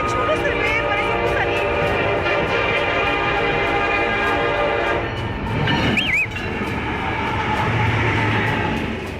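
A locomotive-hauled train passes close by, producing a loud, continuous rumble and roar that fills the whole stretch, with a brief rising horn-like whine partway through and steady rolling noise throughout.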